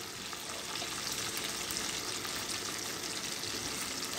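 Bacon sizzles and crackles steadily in a frying pan, a dense continuous hiss with fine popping throughout, close and fairly loud with no voices.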